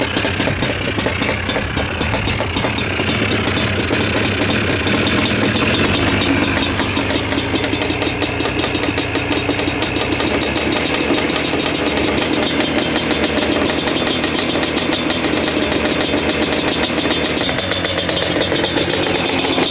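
A Yamaha Banshee ATV engine runs on half choke during carburetor adjustment, a loud, steady, close buzzing two-stroke idle with a slightly uneven rhythm throughout.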